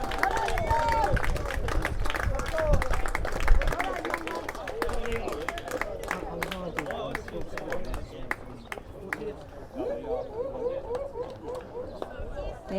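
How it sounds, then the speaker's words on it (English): Crowd at a Jeffries Cup baseball game between Canterbury Red Sox and Southland cheering and clapping after a go-ahead hit, a dense roar of applause and chatter that builds early and gradually thins out. "And the crowd are loving it."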